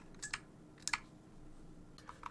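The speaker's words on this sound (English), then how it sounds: "You can press WASD to pan the camera around, to move it around." Computer keyboard keys pressed while navigating a Tabletop Simulator game: a few scattered light clicks in two short bursts, then two faint taps near the end, close by and quiet.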